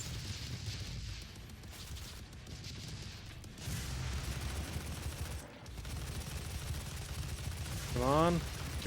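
Missile launcher fire in the video game Doom 2016, a dense rumbling barrage of launches and blasts under game background noise, with a voice briefly rising near the end.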